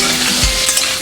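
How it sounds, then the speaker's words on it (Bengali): Banana stem fries in a pan while a spatula turns it, producing a short, close burst of constant sizzle with a couple of soft scraping thumps. "এবারে আমি থোড়টা দিয়ে দেবো, দিয়ে ভালো করে নাড়াচাড়া করবো।"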